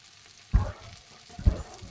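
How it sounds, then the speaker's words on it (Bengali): Bitter gourd frying uncovered in oil on high flame, a soft steady sizzle broken by two brief louder bursts of stirring or tossing, close and with no talk. "আর এবার কিন্তু আমি হাই ফ্লেমে ভাজবো"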